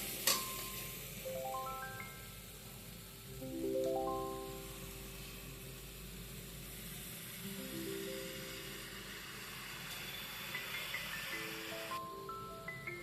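Soaked rice being mixed into fried vegetables in a pan for veg biryani, giving a soft sizzle and light scraping while it is stirred, with a gentle musical melody playing over it throughout.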